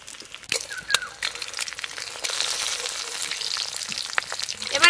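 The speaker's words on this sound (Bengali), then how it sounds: "এটা কম আঁচে ভাজতে হবে, বেশি আঁচ দিলে পুড়ে যাবে" Cauliflower and egg fry gently in a pan over low heat, a soft crackling sizzle with scattered pops and occasional utensil clicks, rising slightly toward the end.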